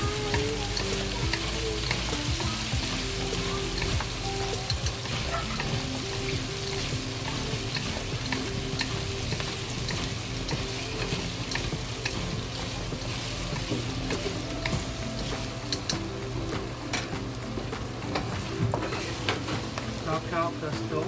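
Chopped scallions frying on high heat in a pan with soft potatoes and pork, a dense, unbroken sizzle with steady stirring and clinks throughout, and no one speaking.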